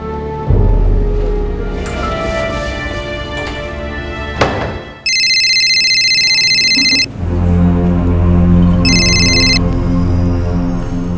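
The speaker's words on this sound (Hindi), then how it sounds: "मणि, फोन लगाओ एम्बुलेंस को।" A telephone rings out while an ambulance is being called after a road accident in New Delhi, sounding two electronic ring bursts over loud dramatic music and heavy thuds.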